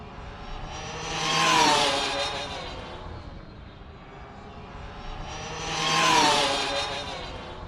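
An Arrma Vendetta RC car on Silver Hoons tires makes two fast passes outdoors, each a high, whining motor and tire rush that swells as it nears and fades as it goes.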